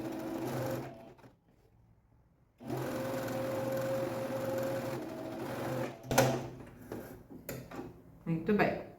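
Sewing machine stitching a straight seam with backstitch at start and end, running in steady bursts with a short pause, then clicks and handling noises near the end.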